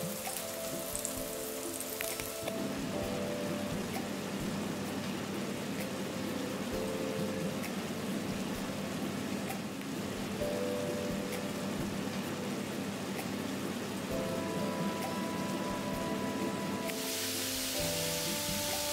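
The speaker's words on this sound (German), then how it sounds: "In etwas Olivenöl die Zucchini-Scheiben in einer zweiten Pfanne von beiden Seiten leicht anbraten" Steady sizzling of zucchini slices frying in olive oil in a pan, a continuous crackling hiss with a faint hum underneath, no talking.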